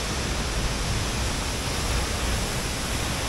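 Ditumabo Falls, also called Mother Falls, in San Luis, Aurora, pours out a steady, dense broadband roar of falling water that stays constant and close throughout, with no voices.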